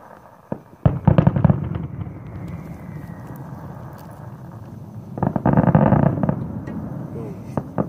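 Late-night fireworks in South Palm Desert, loud crackling bursts and rapid popping volleys near the start and again later, with a rumbling wash between them.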